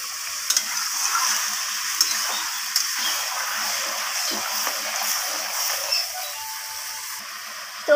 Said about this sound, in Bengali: তো এরপর আমি মাংসটাকে ভালোভাবে কষাতে থাকবো।